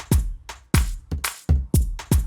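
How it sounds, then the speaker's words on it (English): Six punchy tom drum hits in an Afro Tech track with a deep, booming decay, spaced unevenly in a short rhythmic pattern, loud and close with no talk. "I added another tom at the end"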